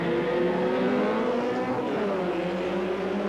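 Honda CRX race cars launching off the grid at Ingliston showground near Edinburgh, a dense, loud roar of many engines revving together that holds steady throughout.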